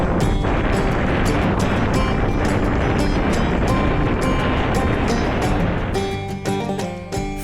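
Strong wind blasts steadily across the microphone while kayaking on Loch Awe, a loud, continuous broadband roar with gusty buffeting that eases slightly near the end, with no voices.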